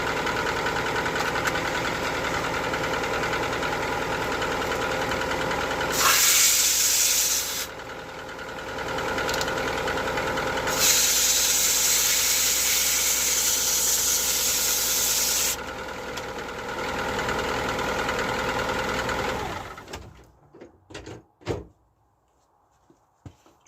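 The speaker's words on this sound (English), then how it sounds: "So that's it running in second gear." A Skoda Fabia engine runs in second gear with a continuous steady drone and hum, loud and close, punctuated by bursts of hissing noise, then it cuts off into near silence with a few knocks.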